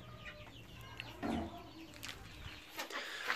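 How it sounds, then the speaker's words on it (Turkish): A broody hen clucks softly among a flock of chickens, low intermittent grumbling clucks at close range over faint background noise. "Bakın burada bir tane gurkumuz yatıyor."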